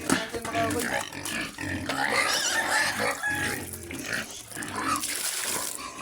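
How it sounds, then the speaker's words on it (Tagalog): A herd of pigs on a farm grunts and oinks steadily throughout, a dense, noisy chorus close by, with someone talking over the animals. "Dito naman sa pikas mga kaboy, sobrang ingay na nila mga kaboy."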